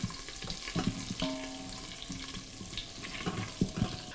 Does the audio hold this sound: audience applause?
no